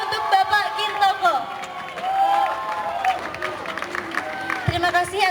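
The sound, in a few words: audience applause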